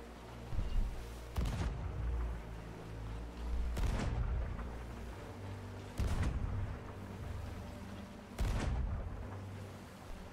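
Ship cannons in the pirate game Sea of Thieves fire four times at spaced intervals, each a heavy, booming blast with a deep rumbling decay, loud and close with no talk over them.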